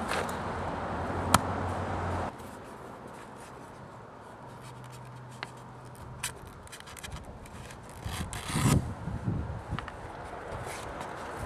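A Gerber LMF II fixed-blade knife cuts through leather with soft, scratchy scraping and dragging strokes, a few sharp ticks and a louder rasping burst near the end, all close and fairly quiet.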